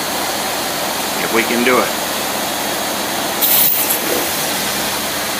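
Pumps run as a steady loud hiss, close by and continuous throughout, while a voice speaks briefly over the noise.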